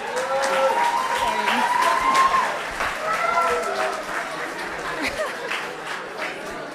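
Audience applause for winning teams at a research conference, a steady wash of clapping with crowd chatter and cheers mixed in, loud and sustained throughout.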